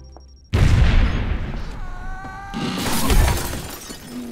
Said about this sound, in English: The plate glass window broke my fall.